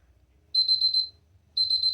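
A kitchen timer beeps while homemade Oreos bake in the oven, giving two bursts of rapid high-pitched electronic beeps separated by a short pause, loud and close in a quiet room.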